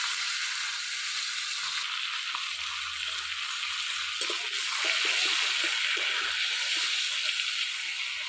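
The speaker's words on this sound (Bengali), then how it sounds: "মাছটা দিয়ে তেল উঠতেছে। তেল ছাড়তেছে।" Fish frying in hot oil in a kadai during Bengali village cooking, a steady close sizzle and hiss throughout with brief stirring clatter and faint low rumble, no talk.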